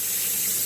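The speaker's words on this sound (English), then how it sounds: "we are going to soak these down with some water and give them a quick rinse." Cold water sprayed over freshly dug dandelion roots to rinse them, a steady close hiss of running water through the whole short moment, with no voices.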